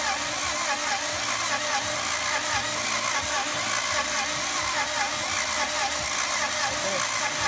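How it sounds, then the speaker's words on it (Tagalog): A Kia Sorento engine runs steadily during a fuel injector test, giving a continuous mid-pitched idle rumble with no pauses. "ito ang pangatlong injector na ititis natin ng motor."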